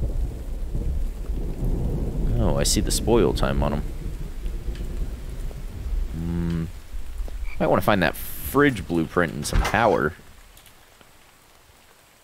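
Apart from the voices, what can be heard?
rain and thunder in video game The Infected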